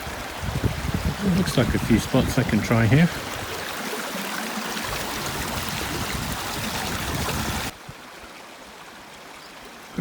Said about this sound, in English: reached this little bridge across the river.